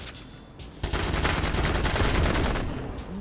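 Rapid automatic gunfire from a weapon in the video game Watch Dogs 2, a sustained burst of evenly spaced shots starting abruptly after a brief quiet lead-in, loud and close, continuing for over two seconds before tapering, with no talking.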